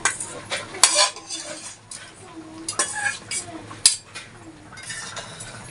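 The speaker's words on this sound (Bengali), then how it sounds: "এবারে ভেজে রাখা পটলগুলো দিয়ে দিব।" Fried pointed gourd pieces dropped into simmering dal in a pot, giving scattered clinks and scrapes of a spoon against metal at close range, with a faint low bubbling underneath.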